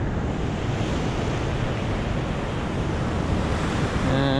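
Sea waves and moving water outside a coastal cave at Glentana make a steady, loud, close roar of surf and rushing water, mixed with gusty wind buffeting the microphone, and no voices.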